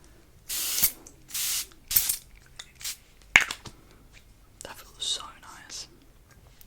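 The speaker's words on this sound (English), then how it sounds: "It's the Evian facial spray." Several short, close spritzes of an Evian facial mist spray come in quick bursts, separated by pauses and soft whispering.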